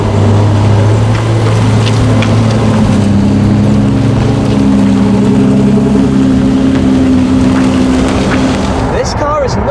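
A McLaren Senna sports car's engine drones loud and steady, with a low rumbling hum running throughout and a voice talking over it.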